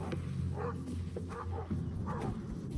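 A Caucasian shepherd dog barks at a grizzly bear outdoors by a house, a few deep barks spaced over steady background noise, moderately near and heard without talk.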